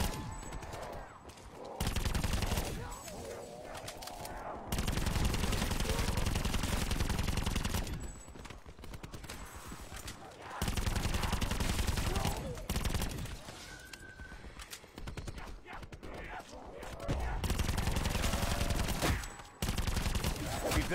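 Rapid bursts of automatic gunfire from Call of Duty Black Ops 4 Zombies on the Blood of the Dead map, loud and sustained in several long volleys separated by short pauses, with voices talking between them.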